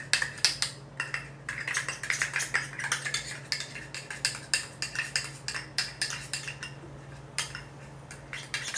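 Metal utensil scraping and clinking against a bowl while yellow gel food colouring is worked into rainbow cake batter, a steady run of close, sharp taps and scrapes with no talking.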